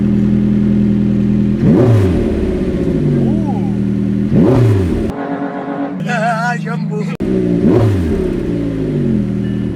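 A McLaren GT sports car engine revs repeatedly in loud bursts, rising and falling, with a short pause midway where a higher whine briefly takes over.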